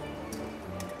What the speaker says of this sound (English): If you can hear that clicking, that is the sound of a stolen Lime bike.